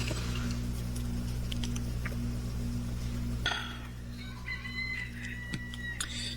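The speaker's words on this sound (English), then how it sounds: "There's my rooster saying good morning." A rooster crows in the background, a few drawn-out calls breaking through near the end over a constant low mechanical hum, with faint scattered clucks and no speech.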